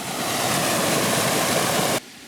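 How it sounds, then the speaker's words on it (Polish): A mountain stream swollen after several days of heavy rain rushes loudly and steadily in a dense, broadband roar, then cuts off abruptly near the end. "A tak szumią górskie potoki."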